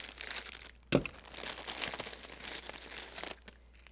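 Crinkle paper is crumpled and stuffed into an edible Easter basket: a sharp close rustle at the start, then several seconds of loose crinkling and scrunching, with no talk.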